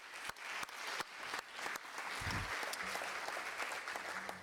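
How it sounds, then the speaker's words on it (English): Audience applause after a conference panel on drone registration, identification and tracking, a steady patter of clapping that fills the room at moderate volume with no talk over it. "Please, another round of applause for them"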